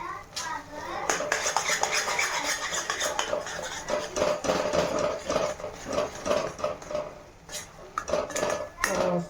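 A spoon scrapes and clinks steadily in a pan while puran modak filling is stirred, loud and close, with a voice speaking faintly underneath.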